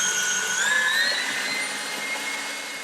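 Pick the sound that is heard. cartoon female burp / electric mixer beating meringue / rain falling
electric mixer beating meringue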